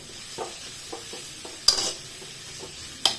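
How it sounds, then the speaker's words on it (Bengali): Mixed vegetables for hakka noodles frying in a pan while being stirred, with a low sizzle under repeated scraping stir strokes and two sharp metallic clanks of utensil on pan, close and without talk. "তো চলো এটা আর 5 মিনিট মতন ভাজা হোক"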